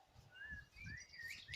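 Ducklings give faint, thin rising peeps, a few quick chirps in succession over quiet low rustling, with no talking.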